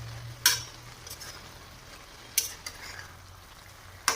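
Spring onion greens simmer in a pan on medium-low gas and are stirred, giving a soft, steady sizzle with three sharp spoon clinks against the pan.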